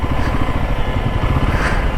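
Motorcycle engine running steadily during a ride through hilly roads between Kumaon and Garhwal, loud and close with a constant droning rumble throughout.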